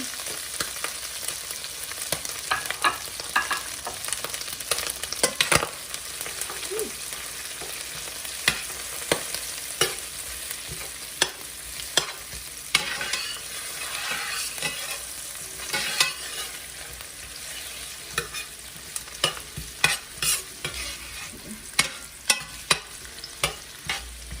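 Onion and cabbage stir-fried Jamaican style in a pan, an ongoing soft sizzle with frequent scraping, tapping utensil strokes against the pan, moderately close and without talk.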